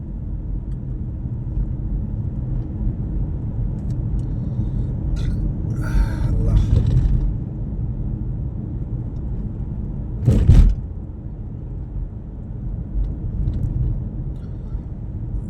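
Steady low rumble of road traffic near Kuwait's airport, vehicles droning past close by with a brief louder swell of a passing car midway, a constant bed of engine noise throughout.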